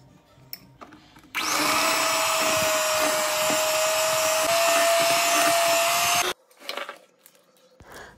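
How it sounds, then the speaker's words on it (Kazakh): Electric hand mixer whirring steadily for about five seconds as it beats honey cake batter with melted butter and honey, a loud continuous motor drone that starts and stops abruptly, with faint kitchen clatter before and after. "үстіне ертілген сары май және балды қосып, тағы да бір рет миксерлеп аламыз"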